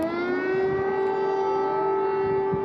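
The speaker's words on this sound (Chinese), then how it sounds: "空袭警报又开始打。" An air raid siren wails in Kyiv, Ukraine, holding one loud, steady tone with rich overtones, droning continuously for the whole short stretch.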